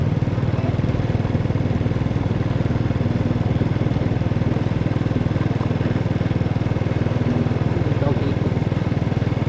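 A Honda Dream motorcycle on a ride to Sabay Beach gives a constant close engine drone with a fine, even rattle, loud and unbroken from start to end.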